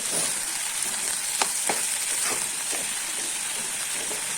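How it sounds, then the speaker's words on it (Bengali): Onions and chillies sizzle steadily in a hot pan as they are stirred, a close, continuous frying hiss with a few soft scrapes of the spoon. "আমি এখানে পেঁয়াজগুলোকে নেড়ে চেড়ে দিচ্ছি"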